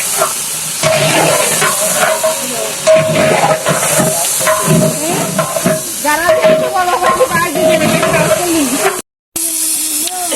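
Goat meat frying in a cooking pot, a loud continuous sizzle and hiss with stirring scrapes, steady throughout apart from a brief dropout near the end.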